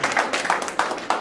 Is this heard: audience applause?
yes